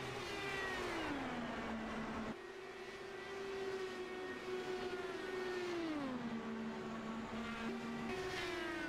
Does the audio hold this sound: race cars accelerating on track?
yes